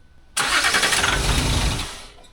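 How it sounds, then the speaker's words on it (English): A Land Rover engine cranks and catches with a sudden loud start, then runs rough and steady for about two seconds before the sound begins to fade. "I think you need to start the engine."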